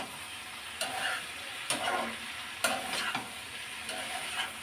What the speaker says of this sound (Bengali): আর এখন আবারও কষিয়ে নিব।